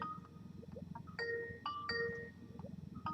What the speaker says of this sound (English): It's ringing. You could hear it.